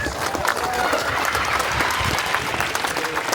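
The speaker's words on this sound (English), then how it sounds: "Give yourselves a round of applause." A crowd at a protest in Barnham against an RAF site planned for HMO housing breaks into dense, sustained clapping and applause that fills the whole moment.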